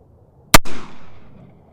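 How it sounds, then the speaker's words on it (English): A single sharp gunshot from an original Colt Pocket Navy revolver cracks loud and close, followed by a long decaying echo rolling off over about a second. "let's go ahead and try 5 shots with an original Colt"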